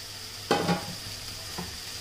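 Carrots, beans and mint sautéing in a pan with spoon stirring, a faint steady hiss under a few louder scraping strokes spaced apart, no voices.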